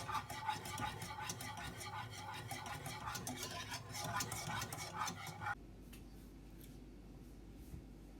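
A spoon or whisk stirs pastry cream in a pan over low heat, with close, busy scraping and clinking that stops abruptly partway through, leaving near-quiet room tone; nobody talks.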